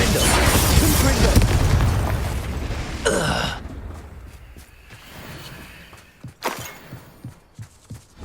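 Spell blasts in the video game Hogwarts Legacy, a loud booming burst up front that rolls off into rumbling decay, followed by a sharp crack and several softer pops and impacts near the end.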